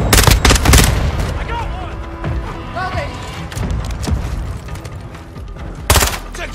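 A cruise missile strike and gunfire ring out in the Modern Warfare 2 Hardpoint match on La Casa: heavy booming blasts open the moment and return near the end, with scattered shots and in-game voices in between.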